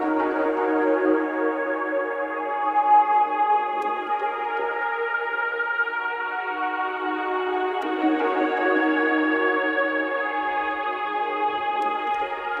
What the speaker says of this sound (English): So we've got the Synth Atmos 5 right here that we can use.